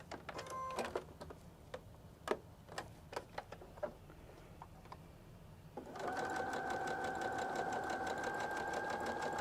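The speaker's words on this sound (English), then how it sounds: "we're going to sew on the long side a 1/4 inch seam" A sewing machine stitches a quarter-inch seam along the long side of fabric triangles. Scattered ticks and clicks come first, then a steady whirring run of rapid stitching.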